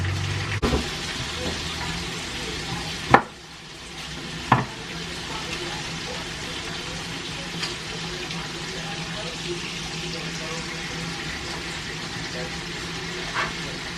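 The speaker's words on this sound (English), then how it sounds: "Now I'm throwing the shrimp on." Shrimp tossed into a pot for a seafood boil: broadband bubbling and sizzle run throughout, with a couple of sharp knocks near the start and a brief pause after the first loud clank.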